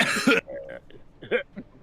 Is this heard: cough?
yes